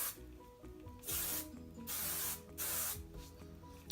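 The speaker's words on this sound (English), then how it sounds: "I'm gonna spray my hair real quick." Volumizing hairspray from an aerosol can misted onto hair, three sustained bright hissing bursts of about half a second to a second each, separated by short gaps, close and fairly quiet, no talk.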